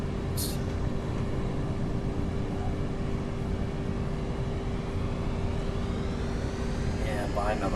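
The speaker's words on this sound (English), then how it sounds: "I think a Medusa's about to take off. Based off that engine sound." In the video game Nuclear Option, a Medusa aircraft's engine runs before takeoff as a steady, loud, unbroken drone with a constant tonal hum from start to finish.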